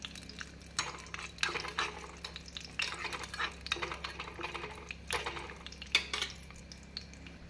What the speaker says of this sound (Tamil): நெய்யில் முந்திரி பருப்பை வறுத்து பீட்ரூட் ஸ்வீட்டில் கொட்டிவிட வேண்டும்.